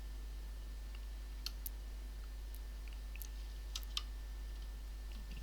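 Keys clicking on an HP 250 laptop keyboard, a few sparse, quiet taps spread out over a steady low electrical hum.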